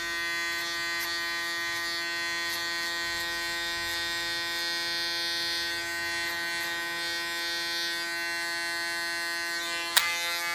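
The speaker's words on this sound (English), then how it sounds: "Use the clipper as a comb." Electric hair clipper buzzes steadily while cutting long hair behind the ear, a close, even high-pitched hum with faint snipping ticks and a small click near the end.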